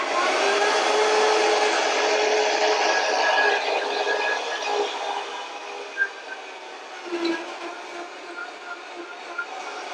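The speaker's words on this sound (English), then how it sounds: "the Vitamix made real quick work of that" A Vitamix blender runs at full power with a loud, steady whir that eases slightly toward the end, broken by a few clunks near the close.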